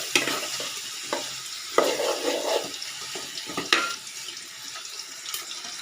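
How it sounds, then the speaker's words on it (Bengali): Shrimp with turmeric, salt and chopped green chilli being stirred in a pan: repeated scraping strokes over a steady hiss of cooking, with a few louder bursts and no voices. "হলুদ গুঁড়ো, লবণ, কাঁচামরিচ কুচি, চিংড়ি মাছ দিয়ে দিলাম। এখন নেড়ে দেবো ভালো করে।"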